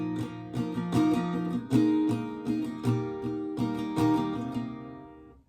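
An acoustic guitar strums the break chords of a song, with rhythmic full strums and steady chord changes at close range, no voices.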